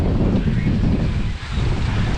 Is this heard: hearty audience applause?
no